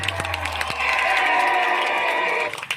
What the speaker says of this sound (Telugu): చప్పట్లు కొట్టి మీ ఆమోదం తెలియజేయాలి.